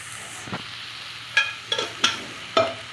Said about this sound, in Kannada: ಸ್ವಲ್ಪ ಅರಶಿನ ಹಾಕ್ಕೋಬೇಕು ಸ್ವಲ್ಪ ಗರಂ ಮಸಾಲ ಇಷ್ಟು ಹಾಕ್ಕೊಂಡು ಫ್ರೈ ಮಾಡ್ಕೊಳ್ಳೋಣ